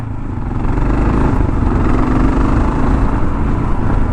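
A 2022 Kawasaki KLR 650 motorcycle engine drones loudly and steadily at low revs while riding, a dense, rumbling single-cylinder roar with constant wind buffeting.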